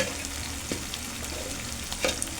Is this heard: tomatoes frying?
yes